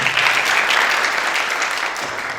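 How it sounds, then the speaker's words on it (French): Audience applause for Rachid Safi at a conference session on circular economy and natural resources, a dense, even wash of clapping from a seated crowd, loud and steady throughout. "Mesdames et messieurs, applaudissez pour M. Rachid Safi."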